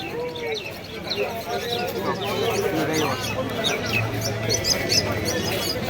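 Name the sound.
pigeons cooing at Birnagar pigeon market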